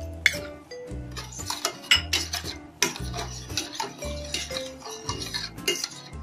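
A metal spoon stirs spices and chaat masala into a golgappa mixture in a bowl, giving repeated close clinks and scrapes in an uneven rhythm, with no talking.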